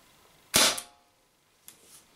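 An Umarex HDR68 CO2 gun fires a marble slug in cold weather with low gas: one sharp, loud pop close by, followed by a brief tail and a fainter click or hiss about a second later.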